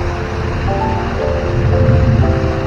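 River flowing beside the Beji Langon temple in Bali, a continuous broadband rush of moving water, close and steady, swelling slightly toward the end with no voices.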